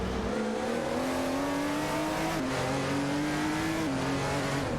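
Race cars in a racing video game, including a Toyota Sard MC8 R, engines whining loudly as they climb through gears, with small shifts in pitch and a steady, dense roar throughout.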